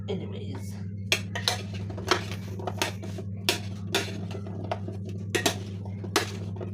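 Potatoes are mixed in a pot with a spoon, giving a run of close, light metallic clinks and scrapes over a steady low hum.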